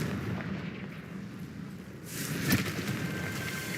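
Confringo blasting curse explosion in the Hogwarts Legacy video game: a low rumbling backdrop swells into a loud burst at the midpoint, followed by bright crackling debris and a sustained roar.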